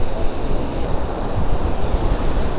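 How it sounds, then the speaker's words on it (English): Strong wind buffets the microphone at a beach while surf roars steadily nearby, a loud, broad, unbroken rush with no voices. "it is windy"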